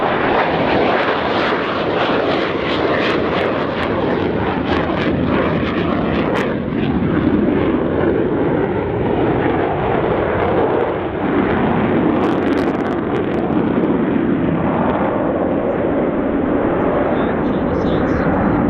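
Avro Vulcan bomber taking off at an airshow, its jet engines producing a continuous loud, broadband roar that holds steady throughout, with wind buffeting and a crowd-distance perspective.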